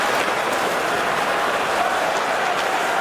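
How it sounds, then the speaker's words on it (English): A hockey crowd at the Bell Centre roars after a big hit along the boards, a dense steady wash of cheering and clapping that stays loud throughout. "That gets the crowd riled here a little bit."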